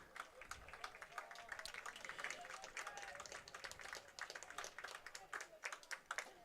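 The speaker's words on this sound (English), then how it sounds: "a smattering of applause from the audience." Light, scattered applause from spectators at a high school varsity men's soccer game during a break in play, a thin patter of claps heard alone at moderate distance.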